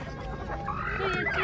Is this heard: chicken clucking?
yes